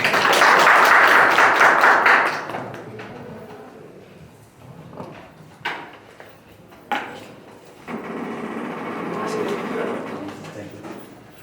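An audience at a speakers' forum claps to welcome a speaker to the stage: a dense burst of applause for about two seconds, then it fades and a voice starts talking, with a few knocks and a second wave of crowd noise later.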